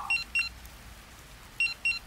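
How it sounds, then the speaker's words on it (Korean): An old pager beeps in two pairs of short, high electronic bleeps, the first pair at the start and the second after a pause, over a faint background hum. "다시 벨이 울렸습니다."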